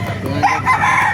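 A short burst of gamecock sounds at a rooster market, with a rooster's crow rising over clucking close by.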